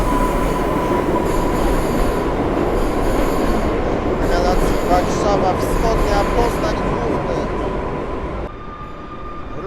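A delayed TLK Lubomirski passenger train from Szczecin to Zakopane pulls away from a station with a loud, close rumble of wheels on rail and squealing wheel tones, fading slightly toward the end.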